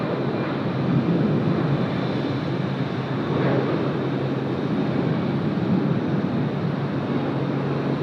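A Batik Air Boeing 737 Max takes off from Sydney Airport runway 16R, a loud steady engine roar with a broad rumbling rush, heard from a distance without talk.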